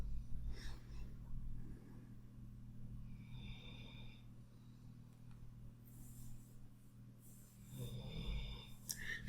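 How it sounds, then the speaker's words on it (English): A fat Labrador sleeping on a couch snores gently and steadily, low and fairly faint, with soft snorts and breathy sounds in the background. "If you can hear some gentle snoring in the background"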